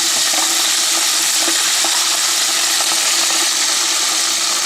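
Clams bubble and crackle in a pot of hot deep-frying oil, making a loud, dense, continuous hiss with faint popping and no voices.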